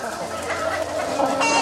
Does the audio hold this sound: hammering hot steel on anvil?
no